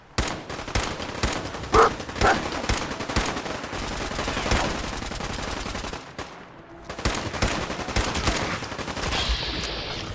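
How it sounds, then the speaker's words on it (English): Rapid gunfire from allied characters in a shooter video game with ghouls and security guards, dense bursts of shots filling most of the stretch, a brief lull near the middle, then more volleys. "so what are you guys shooting at?"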